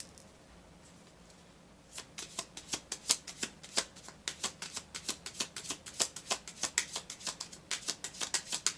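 A deck of tarot cards is shuffled in a quick, crisp riffle of rapid flicks that starts after a short quiet pause and carries on to the end, close and clear.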